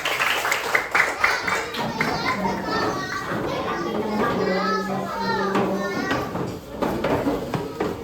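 Children in an elementary classroom clap their hands together in a quick burst of overlapping claps, mixed with excited kids' chatter and shouting close by.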